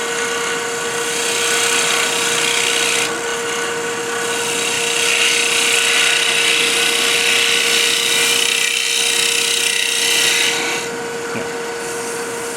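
Blade carving wood on a carved duck, pushed downhill along the grain: a continuous, loud rasping scrape that swells and eases over many seconds, over a steady underlying hum, with no talking.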